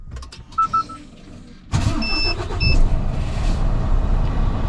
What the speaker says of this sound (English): you can start the engine. Just press the button.